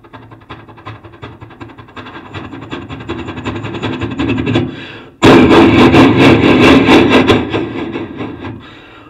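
A performer's voice imitates a train approaching from far off, starting faint and swelling steadily, then bursting into loud, close, rhythmic chugging that rolls on before easing slightly at the end.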